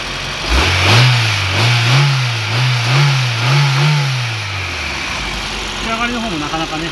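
A 1998-spec Honda Integra Type R DC2 engine with a replaced timing belt and clutch is revved repeatedly from idle, about five rising and falling pulses close by, then it settles back to a steady idle.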